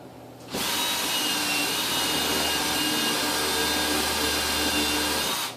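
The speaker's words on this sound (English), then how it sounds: "I have a countersink bit, and I'm going to pre-drill the hole" A power drill with a countersink bit pre-drills a hole while installing a bay window, whirring steadily for about five seconds, a loud, continuous whine that starts abruptly and cuts off at the end.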